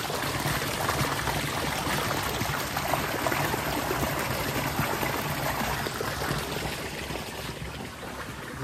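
Irrigation water flows from a pipe on a dragon fruit farm. It makes a continuous, fairly loud rushing gush that holds steady and eases off slightly near the end, and there is no talk.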